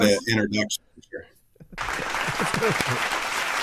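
Audience applause from a show's studio crowd, dense and steady after a short stretch of talk, loud and continuing to the end.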